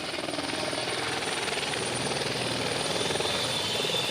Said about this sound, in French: juste à temps pour le retour de l'hélicoptère.